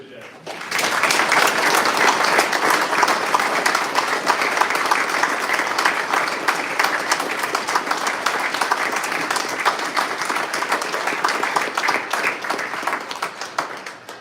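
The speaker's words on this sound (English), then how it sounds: "join me in a round of applause for all of the veterans here today" An audience at a Veterans Day ceremony at the Iowa Veterans Home gives a sustained round of applause for veterans, dense steady clapping that lasts about thirteen seconds before easing slightly at the end.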